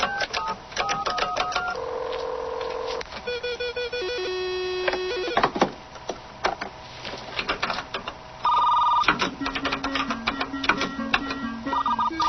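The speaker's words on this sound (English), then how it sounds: "Dialing into the school's computer." A 1983-era telephone line dials into a school computer, giving a loud sequence of dial tones, steady beeps and shifting electronic modem tones that change pitch every second or two, with no voices.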